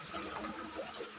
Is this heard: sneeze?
no